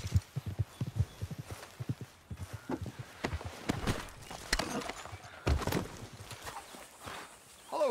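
Horse hooves clip-clopping at a walk in the video game Red Dead Redemption 2, a steady close rhythm of hoof falls with a brief voice near the end.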